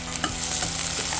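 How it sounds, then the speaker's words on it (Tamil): Onions and cashews sauté in hot oil in a pan for a Kongu-style brinjal gravy, giving a steady low sizzle with a few soft stirring scrapes and no voices. "இந்த முந்திரியையும் நம்ம அப்படியே நல்லா வதக்கலாம்."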